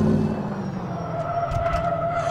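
Game car engine in Car Mechanic Simulator 2015 droning and revving with a steady mid-pitched tone, ending in a brief skidding squeal as the car spins out.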